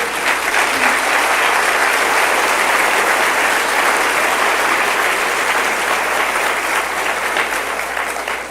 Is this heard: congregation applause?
yes